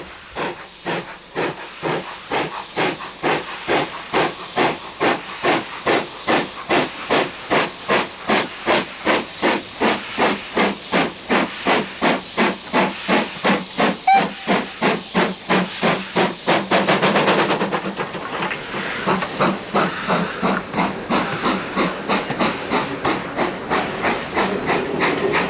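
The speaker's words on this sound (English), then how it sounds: "the engine fighting it is BR Standard Light Mogul 78022, rescued from Barry in 1975" BR Standard Light Mogul 78022 steam locomotive working hard up a gradient on a heritage branch line in damp Pennine weather, with loud, steady rhythmic chuffing exhaust beats close by and a hissing surge of steam partway through.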